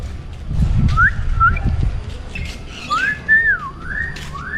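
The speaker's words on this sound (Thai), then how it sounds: "นกขุนทองครับ" A hill myna gives several loud, clear whistled calls, rising and swooping, over a low rumbling background with no talking.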